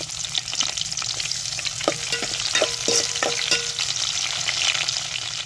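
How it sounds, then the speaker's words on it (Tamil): Sliced onions and green chillies frying in oil with curry leaves, the base of a sardine fish curry, sizzle steadily up close, with a run of sharp utensil taps and stirring clinks in the middle. "வெட்டி வச்ச வெங்காயத்தையும் சேர்த்துக்கிறோங்க ஒரு நாலு பச்சை மிளகா சேர்த்துக்கிறோம்"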